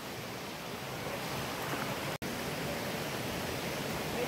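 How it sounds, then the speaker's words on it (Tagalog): Lactas Falls waterfall pours in a constant, dense hiss of rushing water, close and steady throughout, with a single sharp dropout midway. "finally nandito na nga tayo sa Lactas Falls"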